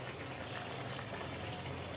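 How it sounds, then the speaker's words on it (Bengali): Fish curry gravy boils in a pot with a steady, even bubbling hiss that stays soft and constant throughout. "ঝোলের ফুট উঠে গেছে এবার একটা একটা করে ভাজা মাছ এর ভেতরে ছেড়ে দেওয়া হচ্ছে"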